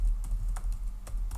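Computer keyboard typing in a short burst of scattered keystrokes, close and moderately loud over a low steady hum, with no talking.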